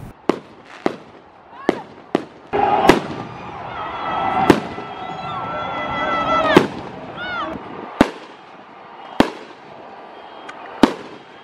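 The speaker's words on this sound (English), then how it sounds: "When the clock struck midnight, city centers were filled with fireworks of all sorts of designs and color." Fireworks at a midnight New Year celebration in a Ugandan city centre, with sharp loud bangs every second or so over a continuous crackle and whistling bursts, and distant crowd noise throughout.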